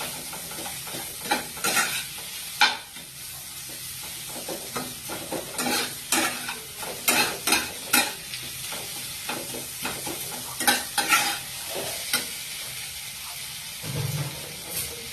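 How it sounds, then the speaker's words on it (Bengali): Masala sautéing in a pan for an egg and fig curry, a steady sizzle broken by repeated scraping stirs throughout, close and fairly loud, with no talking. "মশলাটাকে তোমরা একটু ভালোভাবে কষিয়ে নেবে।"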